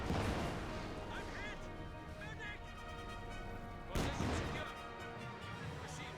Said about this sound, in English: it looks like there was a landmine detonation there